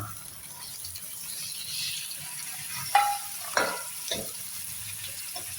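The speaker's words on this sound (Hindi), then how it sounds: "आधा किलो कीमा डाल के मैं इसको प्याज़ों के साथ इसका रंग चेंज होने तक पकाऊंगी।" Half a kilo of minced meat frying with browned onions in a pot gives a faint, steady sizzle, with a few louder stirring scrapes and clacks near the middle.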